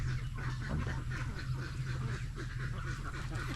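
Ducks on a Filipino fish-pond farm quacking in a continuous noisy chorus, fairly close and steady, with no clear talk over them.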